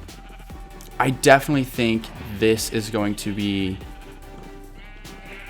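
Blocky Minecraft sheep bleat several times in quick succession, their calls overlapping a voice as he talks steadily throughout.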